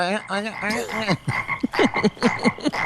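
A comedic movie frog from the film Beer Fest croaks in a rapid run of exaggerated, voice-like rising croaks. The calls come up close and loud and sound more like a cartoonish performance than a real animal.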